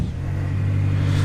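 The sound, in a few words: BMW X6M engine starting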